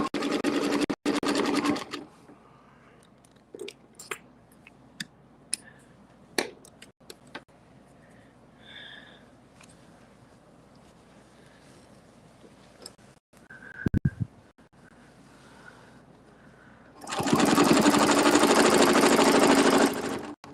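A sewing machine stitches fabric in short bursts, a loud rapid mechanical whir at the start, scattered clicks and handling taps through a quieter middle, and another sustained run of stitching near the end.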